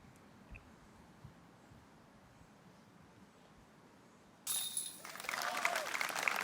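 Spectators at a European disc golf event break into sudden applause after a putt, quiet outdoor ambience giving way to loud, sustained clapping for the final two seconds.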